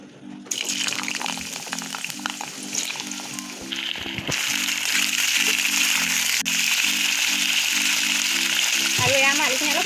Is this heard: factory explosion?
no